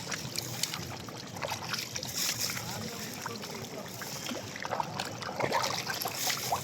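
Pangas, carp and puti fish thrash and splash at the surface while feeding, a busy, irregular wash of close watery slaps and trickles with a voice faintly underneath.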